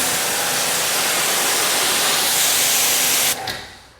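Kranzle pressure washer in a tandem install, two units feeding one hose reel at about 1400 PSI, blasting water as a loud, steady broadband hiss that cuts off abruptly near the end and trails into quieter spray.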